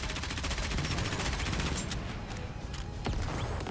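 Submachine gun fire in the mobile shooter game Nikke, rapid bursts crackling close and loud, with a few sharper single reports near the end.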